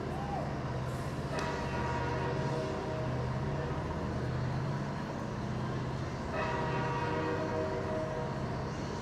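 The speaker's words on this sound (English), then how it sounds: "There's a freight train blowing his horn as he's pulling out of downtown Tulsa, headed east" A freight train's horn sounds in long blasts from a distance as it pulls out of downtown Tulsa heading east, carried over the steady ambient murmur of a baseball crowd at the downtown ballpark.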